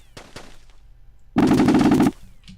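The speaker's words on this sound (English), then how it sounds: "Oh, that's a little tiny gun." A couple of faint clicks, then a rapid burst of small-gun fire in a flight simulation game lasting under a second, loud and close, with no talking.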